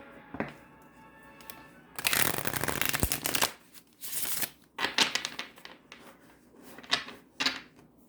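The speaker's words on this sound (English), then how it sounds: "Shuffle this real quick." A deck of tarot cards is shuffled close up in quick riffling bursts, a dense flutter around the middle followed by shorter taps and flicks, with no talking.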